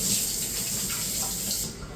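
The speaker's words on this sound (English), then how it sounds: "I'm going to wash my hands." Tap water runs steadily into a kitchen sink during hand washing, a close, even splashing rush that cuts off near the end.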